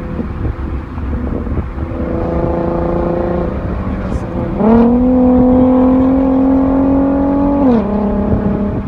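A Scat Pack car roars past at top speed: a loud, sustained engine drone that climbs sharply in pitch midway, holds high, then drops off near the end, with voices talking over it.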